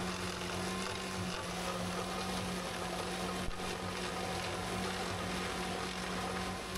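Ferrari tractor mowing at about two miles per hour, a steady, continuous engine drone with a constant low hum and mechanical whirr, unbroken and fairly loud throughout.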